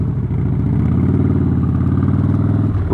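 A Harley-Davidson Street Bob rumbles steadily at riding speed, its deep, loud engine note droning continuously and close, with no speech.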